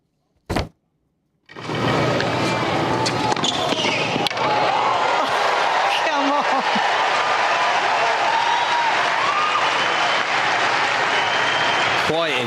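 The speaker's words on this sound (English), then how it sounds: "Applause." Loud, sustained applause from a large tennis crowd for Andy Murray, steady clapping and cheering running nearly the whole time after a brief opening thump and short pause.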